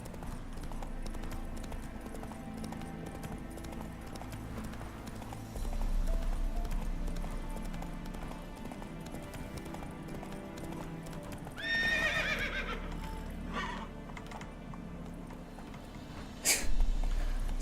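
Roach, the horse in The Witcher video game, trots with steady clip-clop hoofbeats, then lets out a bright whinnying neigh near the end, followed by a short snort.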